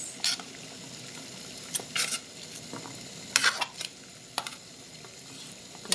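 Chopped onions go into a pot of boiling water for shrimp sinigang, giving soft bubbling and light scattered clatters and taps of pieces and utensil against the pot, faint and close with no talk.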